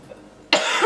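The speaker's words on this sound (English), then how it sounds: "It's weird because as soon as I say it, I cough." A single loud, close cough breaks abruptly out of near silence halfway through.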